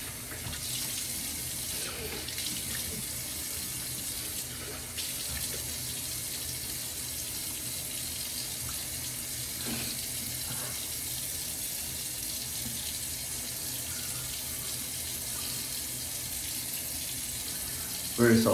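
A bathroom tap runs steadily for rinsing shaving soap off a face, a continuous close hiss of water into the sink with only small shifts as hands move through the stream, ending with a brief louder splash.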